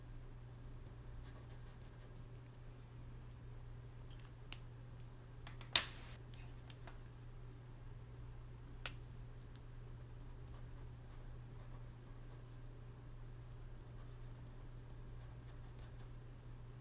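A glaze pen moves across paper in a quiet room, soft faint scratching strokes with a couple of sharp small taps, over a low steady hum.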